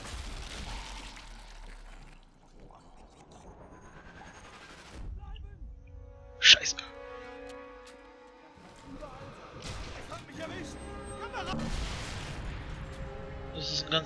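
Gunfire in the sniper shooter Sniper Elite 3: one sharp, loud rifle shot rings out partway through, set within rumbling game ambience and fainter distant shots.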